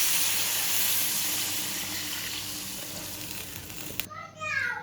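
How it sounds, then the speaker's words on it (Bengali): A strong, steady rush of water poured into rice frying for chicken biryani, loud and close, cutting off abruptly near the end as a voice speaks. "এখন আমি পানি দিয়ে নেব।"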